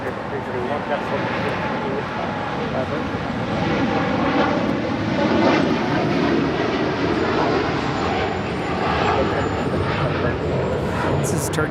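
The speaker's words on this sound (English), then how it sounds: "This is Turkish Airlines 180 departing to Istanbul on a 787-9 Dreamliner." A Turkish Airlines Boeing 787-9 Dreamliner departs LAX with a steady jet roar that swells midway and stays loud, while people talk over it.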